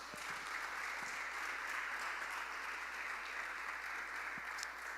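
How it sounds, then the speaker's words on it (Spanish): Church congregation applauding steadily, a dense wash of clapping heard from a distance and fairly faint, with no talking. "Den un fuerte aplauso al Señor"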